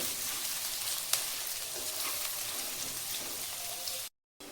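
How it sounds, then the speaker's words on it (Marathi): Chopped onion fries in a pan for paneer pulao, giving a steady, dense sizzle heard close up with a faint tap of stirring, then cutting off abruptly near the end. "आता हा कांदा मी चांगला परतवून घेते।"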